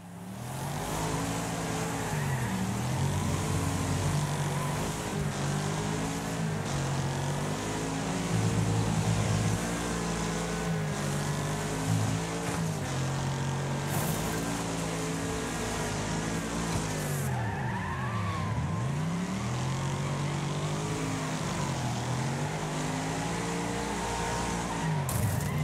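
Race cars in a demolition derby video game roar continuously with revving engines and repeated tire squeals and skids, their pitch sweeping up and down over steady background music.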